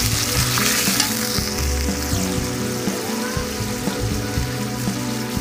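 Spices with salt and turmeric fry loudly in oil for a Bengali-style catfish (shing fish) curry, a constant close sizzle with scraping stirring strokes.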